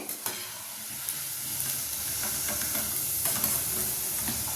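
Potato finger snacks deep-fry in hot oil with a continuous close, loud hiss and sizzle, flecked with small crackles and pops, and no voices.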